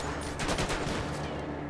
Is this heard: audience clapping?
no